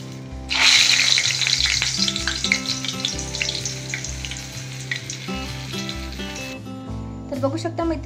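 Medu vada sizzle and crackle in hot oil, a dense, steady frying hiss with bubbling that fades near the end as the vadas are lifted out, with some clattering of a utensil.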